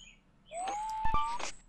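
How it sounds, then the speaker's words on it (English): Bird chirps heard during a No More Heroes video game session: a single rising whistled call with a couple of short sharp chirps, faint and alone with no talking. "the birds are chirping loud today."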